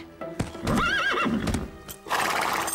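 Nervous cartoon horse Diablo whinnies with a wavering, rising neigh among sharp hoof clip-clops, then snorts and shuffles, close and fairly quiet.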